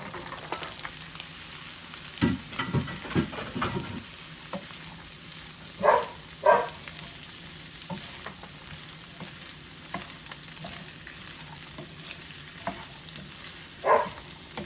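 Boiled green peas stirred into a sautéed mixture in a pan for sundal, a low steady sizzle under occasional louder spoon scrapes and knocks, close, spread over a long stretch with no talking.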